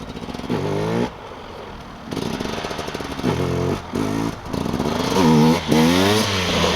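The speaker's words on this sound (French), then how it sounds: "la moto elle va gueuler un tout petit peu et juste après l'embrayage il se lâche" Motorcycle engine revving hard in repeated bursts as the clutch is let out for wheelie practice, loud and close, with rising and falling pitch sweeps between brief idle dips.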